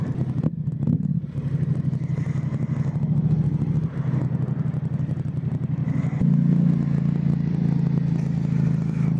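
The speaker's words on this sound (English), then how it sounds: "Damn, traffic." Los Angeles city traffic heard from a motorcycle, with a steady rumble of engines and clattery road noise that swells as a nearby engine revs up toward the end.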